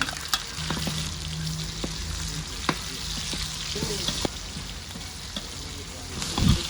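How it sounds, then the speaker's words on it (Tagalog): Garlic and onion sauté in hot oil in a wok-style pan, a continuous close sizzle broken by a few sharp clinks and scrapes of a utensil. "Nagpainit na ako ng kawali at naglagay na ako ng mantika at nagisa na ako ng bawang. At isinunod ko namang ilagay ang sibuyas."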